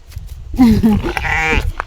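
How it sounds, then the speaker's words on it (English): A sheep in a Kenyan village gives one close, wavering bleat that lasts over a second amid faint background noise. "There's a sheep here."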